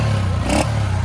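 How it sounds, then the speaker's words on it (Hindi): A used motorcycle's engine idles at a secondhand bike market in Orangi Town, with a steady low hum and a brief burst of clatter partway through. "आवाज़ तो है थोड़ा बहुत इंजन में"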